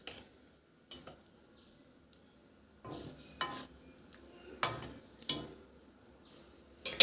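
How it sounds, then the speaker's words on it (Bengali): A utensil stirring pieces of pomfret fish in mustard curry in a pan, with scattered scraping clinks against the metal at irregular intervals over a quiet kitchen background, close and moderately loud, no talk. "আমি এখানে একটু ঘাটিয়ে একটু নাড়াচাড়া করে তারপর ঢেকে দেবো"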